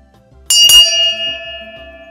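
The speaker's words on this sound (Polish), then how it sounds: "uderzeniem w dzwon wybijał szklanki" A ship's bell is struck to mark the watch, two quick bright clangs close together, then a long ringing tone that slowly decays.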